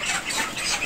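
Broiler chickens clucking in a poultry house during harvest sorting, a dense, close chorus of overlapping clucks filling the brief moment.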